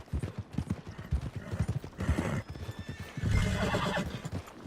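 A horse in Red Dead Redemption 2 clip-clops with rhythmic hoofbeats, then lets out a loud, drawn-out whinny near the end, close and clear.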